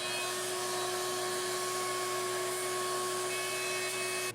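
Shop vacuum running steadily and close, sucking up debris scraped from a Chevy 283 engine's oil pan and valve area, a constant whining hum with no pauses and no talking.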